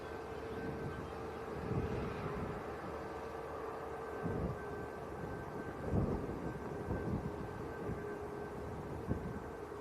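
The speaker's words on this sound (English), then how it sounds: "Dreamliner out of Dublin." Boeing Dreamliner jet departing Dublin, a steady broad engine roar with a faint whine held at an even level throughout, fairly distant with wind buffeting the microphone.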